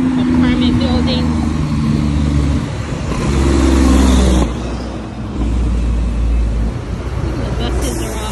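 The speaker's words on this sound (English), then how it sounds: "That's the bus that takes me to the mall" A city bus rumbles along a street in Punta Pacifica, Panama, its low engine drone rising and falling as it passes close by. The sound sits amid steady roadside traffic noise.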